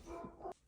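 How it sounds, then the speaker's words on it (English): Dogs bark indoors in a quick pair of sharp yelps, the second louder and cut off abruptly, leaving a brief quiet afterward. "I'm so sorry about my dogs barking."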